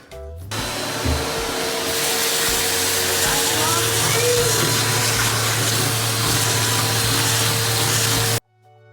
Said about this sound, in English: So I'm gonna scrape and vacuum.